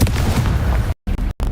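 Confringo blasting spell explosions in Hogwarts Legacy, a loud booming burst followed by abrupt cuts and two more short, punchy blasts close by.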